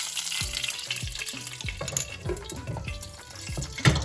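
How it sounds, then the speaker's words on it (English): Mustard and cumin seeds popping in hot oil for a potato fry curry, a close series of sharp pops and crackles over a soft sizzle, some spaced a half-second apart, with a louder burst near the end and no speech. "So now I'm going to add the mustard seeds and let those pop."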